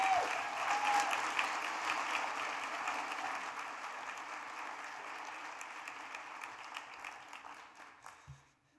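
Audience applause fills a conference hall after a speaker is welcomed to the stage at the OFN conference opening, loud dense clapping at first that gradually thins and fades out near the end.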